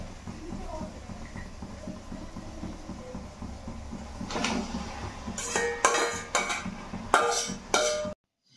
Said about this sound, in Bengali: বাটির সমস্ত মাটনটাকে আমি কিন্তু ধীরে ধীরে কড়াতে ঢেলে দিয়ে খুব ভালোভাবে নাড়িয়ে চাড়িয়ে মশলাটা দিয়ে মাখিয়ে নিচ্ছি